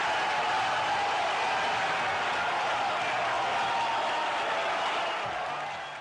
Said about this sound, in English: Just listen to the crowd as Daigo parries Justin.